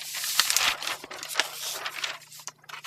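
A sheet of paper for a trouser pattern being folded in half from hem to waist, with close crinkling and rustling, scraping brushes and handling noises in an uneven rhythm.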